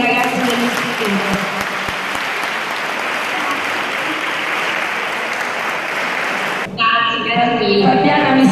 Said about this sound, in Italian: Ti salutano con un applauso a tutti i ragazzi dell'istituto